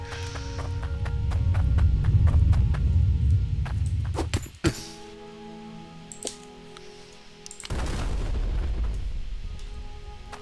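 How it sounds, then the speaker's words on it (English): Nukes explode in the mining game Hydroneer: deep rumbling blasts roll out, a sharp boom cuts through midway, a quieter stretch of debris clatter follows, then another heavy explosion rumbles in near the end. "one more nuke ought to do it"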